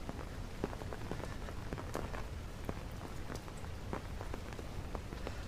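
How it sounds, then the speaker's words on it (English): Heavy rain falls in Hong Kong, a dense, steady hiss of drops striking surfaces, with scattered sharper splats throughout. It is moderately loud and continuous, with no voices. "Welcome to Hong Kong, where it is raining heavily."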